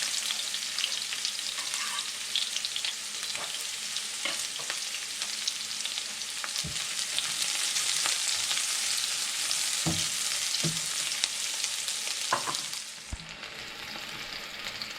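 Onions frying in a pan, giving a steady loud hiss of sizzling oil broken by occasional soft knocks of a spoon stirring, close and continuous with no talk.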